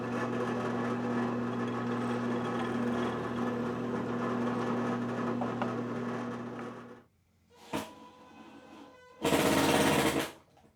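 A power drill drives a screw into a homemade wooden drill press vise, a steady loud whirring hum for several seconds, then stopping, followed by two short bursts of the drill.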